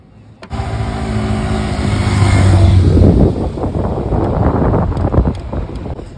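Motorcycle rolling slowly down a steep, dangerous downhill road, its engine a steady low drone blended with heavy wind buffeting the microphone, growing rougher and more broken midway as the bike bumps along.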